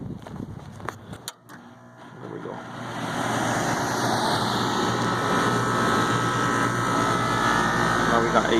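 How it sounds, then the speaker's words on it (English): A car's AC blower motor switches on after a few clicks and a brief pause, then rises to a steady broadband whoosh that holds to the end, with a voice talking at the start. "I'm gonna turn the AC on."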